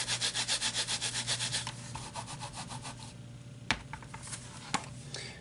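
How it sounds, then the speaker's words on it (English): A rubber stamp is scrubbed on a stamp scrubber pad at a card-making workshop, giving a rhythmic series of about a dozen close, brushy back-and-forth rubs, then a few quieter scrapes and taps. "Handy dandy stamp scrubber."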